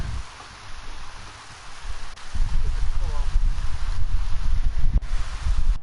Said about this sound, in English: It's not cold, it's just the wind